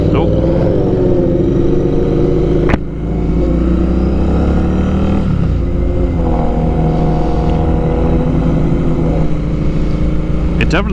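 A Royal Enfield Interceptor 650 engine runs under load while being ridden, revving and holding a loud, steady drone that rises and dips in pitch, with a brief sharp break near three seconds and a voice talking over it.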